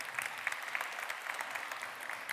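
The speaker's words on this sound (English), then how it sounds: "Give Glenn a round of applause" A conference audience at a tech talk applauding for someone, with steady, moderately distant clapping from a crowd that continues evenly throughout.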